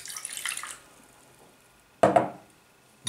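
Water poured into a bowl of dough mixture of salt, vinegar and soda for a lean Christmas Eve flatbread, a short splashing burst after a quieter earlier rustle, close and alone.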